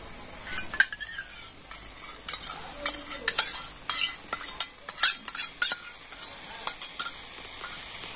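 Potato curry masala with yogurt and slit green chilies sautéed in a pan, with a soft steady sizzle under repeated scraping and clinking of a spoon against the metal over several seconds.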